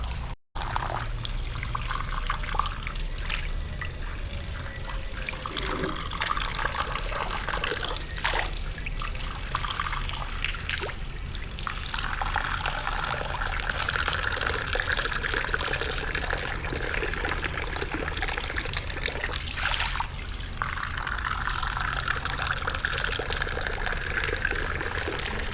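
Free public drinking fountain at an Almaty market runs steadily, a continuous trickle and splash of water with shifting flow as someone washes hands and face, under a constant bustle of market background noise.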